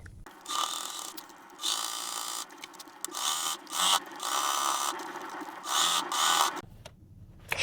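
SINGER sewing machine stitching through several fabric layers of a bowl cozy: loud, close mechanical whirring in repeated runs of roughly a second each, separated by short pauses, with a pause near the end.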